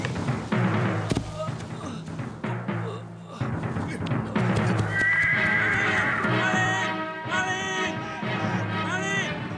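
A horse whinnies loudly over steady clip-clopping hooves, with brief shouting voices mixed in during a staged horse theft in a period drama scene.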